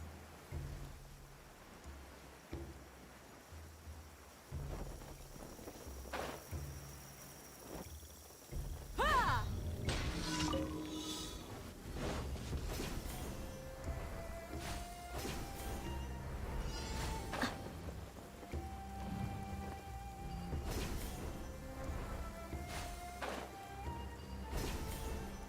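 Rain falling in the Sumeru desert in Genshin Impact, a soft patter that swells into steadier rainfall after a few seconds, joined by scattered game tones and chimes, fairly quiet throughout.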